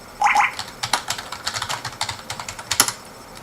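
A password being typed on a computer keyboard, a quick run of close, crisp key clicks in an uneven rhythm with one louder keystroke near the end, no voices.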